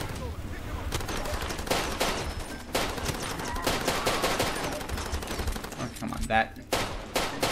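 Rapid, dense gunfire from a pistol and other weapons crackles almost without pause in a Far Cry 2 firefight, loud and close, while someone speaks briefly over the shooting.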